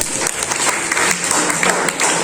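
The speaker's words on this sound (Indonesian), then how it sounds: "Tepuk tangan buat kami ya." Applause from a classroom audience, dense steady clapping throughout at moderate loudness, with a little talk mixed in.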